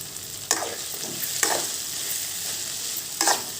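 A spoon scrapes and stirs roasted peanuts and other chutney ingredients in a hot pan, three distinct scraping strokes over a steady dry sizzle, near and alone with no voices.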